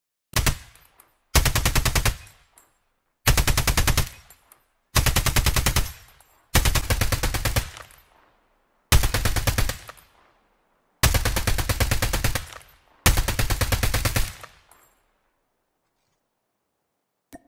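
Automatic weapon fire in the mobile video game Call of Duty Mobile, heard as eight loud, close bursts of rapid gunfire, each lasting about a second and separated by short silences.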